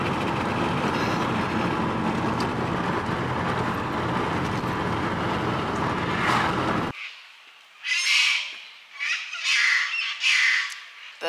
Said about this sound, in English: Birds are screaming at each other.